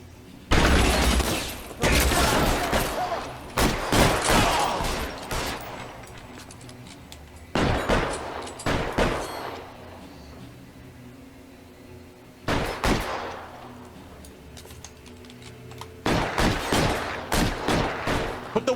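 Bursts of gunfire in the 1940s Los Angeles detective game L.A. Noire, several loud volleys of rapid shots separated by quieter pauses, fairly close and sharp.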